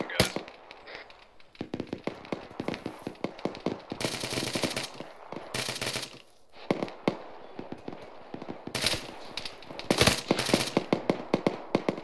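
Suppressed rifle fire in the ArmA 3 military game: rapid bursts of sharp, clipped shots in dense rhythmic volleys, sometimes overlapping, with people talking in between.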